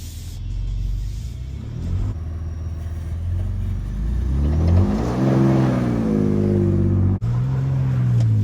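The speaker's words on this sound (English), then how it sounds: "put her in drive, and let's get her" A Ford Ranger Raptor in four-wheel-drive low, traction control off, pulls away off-road in drive, its engine rumbling, then revving and climbing clearly in pitch as it accelerates, loud and close, before settling.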